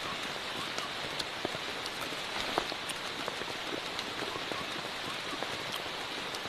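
Rain falls steadily through a tropical rainforest, a dense even patter with scattered sharper drops landing close by, continuous and alone without any talk.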